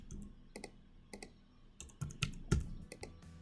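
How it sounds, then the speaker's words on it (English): Clicks and taps of fingers entering a password on a computer keyboard, irregular bursts of keystrokes with short pauses between them, close and fairly quiet, no voices. "So she's going to enter in a password"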